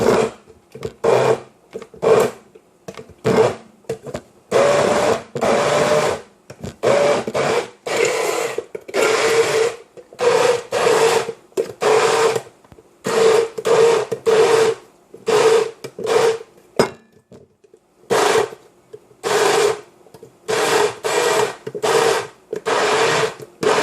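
A blender blends a smoothie in repeated short, loud bursts of whirring and grinding, stopping and starting at an irregular rhythm, with brief silent gaps between pulses and no speech.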